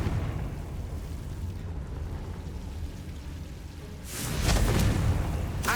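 Confringo blasting spell from the Hogwarts Legacy video game: a low, rumbling roar that holds steady, then swells into a brighter, louder crackling burst near the end, with no voices.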